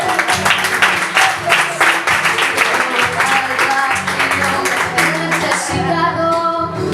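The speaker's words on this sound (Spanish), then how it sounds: "un aplauso" An audience applauding at a live performance, dense, loud and sustained clapping from many hands, fading slightly near the end.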